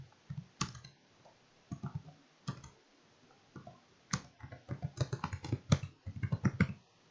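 Someone types on a computer keyboard in short, irregular bursts of crisp key clicks with brief pauses between them, close and fairly quiet.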